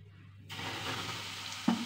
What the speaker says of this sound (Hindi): हमें लो फ्लेम पे ही इसे फ्राई करना है फ्रेंड्स, ताकि ये काफ़ी क्रिस्पी हो सके।